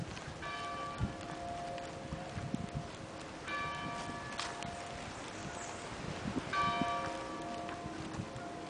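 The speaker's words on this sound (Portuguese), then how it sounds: "Esse é o sino da igreja daqui da Urca." A church bell in Urca, Rio de Janeiro, strikes three slow, evenly spaced times. The ringing tones hang over a steady outdoor wash of wind and distant ambient noise, with no talking.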